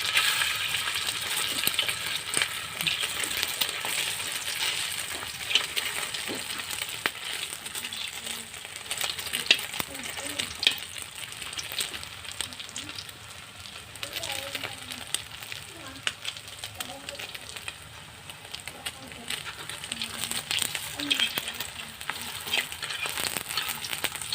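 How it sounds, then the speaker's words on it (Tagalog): Sliced food frying in a pan for breakfast, a continuous bright sizzle with scattered crackles and light utensil clinks, steady and close throughout, with no one talking. "Nilagay ko na to sa kawali ko."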